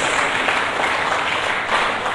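A church congregation applauds together in steady, dense clapping that holds at an even level for the whole stretch, with no voices standing out above it.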